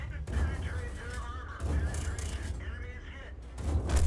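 Tank cannon and machine-gun fire from a video game as one tank tears apart a British Valiant tank, heavy bursts rumbling in waves beneath a steady voice talking over the action.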